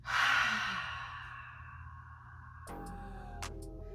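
A deep exhale during yoga breathing, one long, loud, breathy sigh that trails off slowly, followed by faint room sounds.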